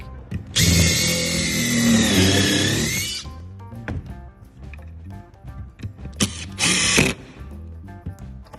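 A power drill fitted with a countersink bit whines loudly for about two and a half seconds, then runs again in a shorter burst near the end, with quiet handling noises in between.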